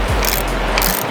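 A torque wrench ratchets briefly while tightening a car's sump plug to 30 Newton meters in a service garage, a quick close clicking burst with no talk.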